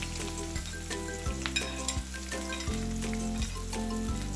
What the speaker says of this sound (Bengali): পেঁয়াজ কাঁচামরিচ দিয়ে আমি একটু নাড়াচাড়া দিয়ে ভেজে নেব।